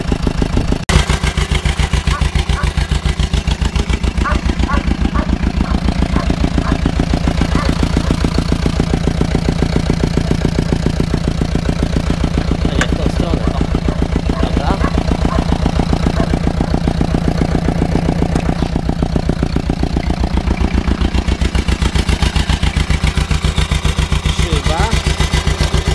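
An Ursus C 325 tractor engine running with a loud, steady, rhythmic diesel chug throughout, close by, with a voice talking over it at times.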